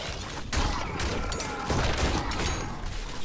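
Rapid, dense bursts of gunfire from the video game Fortnite fill the scene, loud and nearly continuous with punchy shots layered over game noise.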